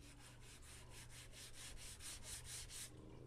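Sandpaper is rubbed by hand over a smooth, slick wooden aquarium stand, about a dozen even back-and-forth strokes in a steady rhythm, close but fairly quiet.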